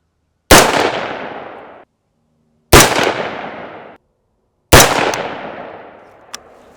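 Three loud rifle shots fired through a $500 scope, each a sharp crack followed by a rolling echo that fades over about a second, evenly spaced roughly two seconds apart outdoors.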